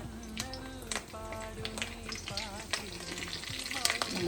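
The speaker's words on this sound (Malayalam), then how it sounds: "എല്ലാം യോജിപ്പിച്ച് കടുവ് വറുത്തെടുക്കാം" Spices and curry leaves crackle and sizzle in hot oil for a mackerel dish, with bursts of spattering and stirring scrapes while faint tonal music plays underneath.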